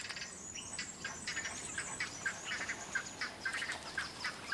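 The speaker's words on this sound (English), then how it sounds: "These peculiar birds roost in the forest canopy, where they are beyond the reach of danger." A flock of birds calls from the forest canopy around a yellowwood tree at dawn in autumn, with repeated short calls at moderate distance over a soft hiss of insects and ambience, with no voices.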